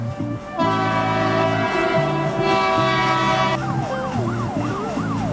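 A police train's horn in Indian Police Train Simulator sounds one long, loud, sustained blast over a low rumbling engine, then cuts off, leaving a wavering tone and background hum.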